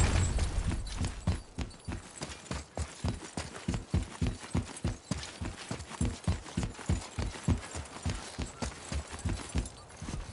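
Horse hooves clip-clopping in the video game God of War, a steady rhythmic trot of distinct hoof strikes that runs the whole time, close and clear with no talk.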